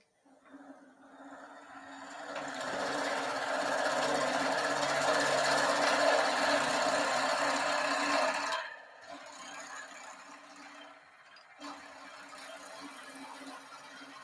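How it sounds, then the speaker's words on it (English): A drill bores into wood in a woodturning workshop, a rough grinding rumble that builds, holds steady for several seconds, then cuts off, followed by quieter intermittent running. "That drilled fairly easily"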